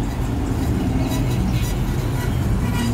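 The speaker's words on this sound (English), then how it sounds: "and a very squeaky Mustang." A squeaky Ford Mustang drives steadily close by, its engine droning with a low rumble, faint high squeaks flickering over the road noise.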